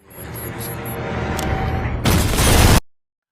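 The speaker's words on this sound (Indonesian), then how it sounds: "ledakan terjadi di tempat tersebut dan Rock pun melancarkan aksinya" A loud, roaring film explosion bursts in after a rising rumble, dense and noisy for under a second before cutting abruptly to silence.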